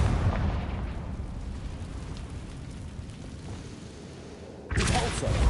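A Confringo blasting spell explodes in a Harry Potter video game: a continuous roaring blast rumbles and slowly fades, then a second loud burst hits sharply near the end.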